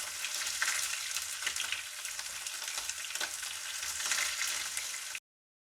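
Duck breast (magret) fries in a pan, a continuous bright crackling sizzle with dense popping spatter, moderately quiet and steady, then cutting off abruptly near the end.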